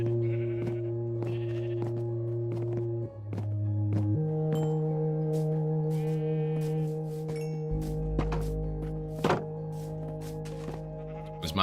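Sheep bleating in the Minecraft video game, several short synthetic bleats repeating over steady game music with low thunks, loud and close, with no talk.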